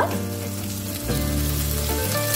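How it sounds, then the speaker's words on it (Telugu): Tomato and asparagus sizzle and fry in a pan while being cooked down for chutney, a steady close frying hiss with brief stirring clatter and no talk. "టమాటో కూడా వేసుకొని కొంచెం మగ్గనివ్వాలి"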